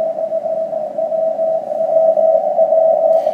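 Amateur radio station W1AW's signal on the 10-meter band, a steady single-tone carrier with a faint noisy hiss underneath, wavering slightly in strength as propagation fades.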